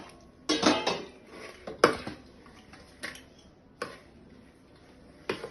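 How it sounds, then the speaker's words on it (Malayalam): Rice flour dough for kozhukatta being mixed with boiling water in a vessel, heard as five sharp clattering knocks of spoon or hand against the pot at irregular intervals, close and fairly loud against a quiet background. "നല്ല തിളച്ച വെള്ളത്തിൽ തന്നെ കുഴച്ചുകൊണ്ടേയിരിക്കണം."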